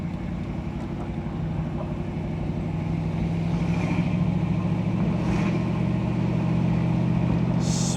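A 1967 Ford Mustang convertible restomod engine runs steadily while driving, a continuous low rumble that swells slightly as revs build and holds through a smooth shift into second gear.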